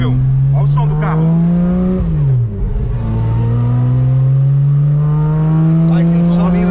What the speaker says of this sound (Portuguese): Aí você vê uma Variant vindo com um som de 6 cilindros boxer, que é incrível.